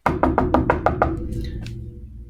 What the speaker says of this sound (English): A knock came at the door, hard and fast.